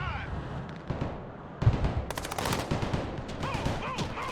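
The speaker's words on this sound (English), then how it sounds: "our mortars are firing on these positions" Mortar and gunfire barrages in the Broken Arrow military strategy game, a dense run of sharp blasts and rattling shots layered over battlefield noise, with voices talking in the background.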